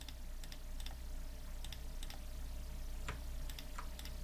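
The Alt key pressed and the mouse clicked while editing in Adobe Photoshop: sparse, light, dry clicks and taps scattered over a steady low electrical hum, close and quiet, with no one talking.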